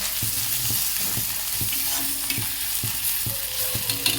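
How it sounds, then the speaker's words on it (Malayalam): Sliced ginger and curry leaves sauté in hot oil for a fish fry, a steady close sizzle broken by regular scraping strokes of a spoon stirring the pan. "കറിവേപ്പില ഇഞ്ചിയും ചേർത്ത് ഒന്നും കൂടി വഴറ്റിക്കാം."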